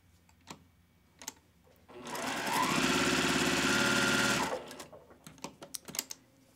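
A sewing machine runs in one steady, close burst of about three seconds while quilt block units are chain pieced, with soft fabric handling and clicks before and after.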